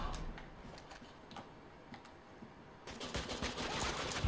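Rapid gunfire rings out in a multiplayer match of Uncharted 3: Drake's Deception. Sharp individual shots come first, then grow into a louder, denser burst of fire near the end.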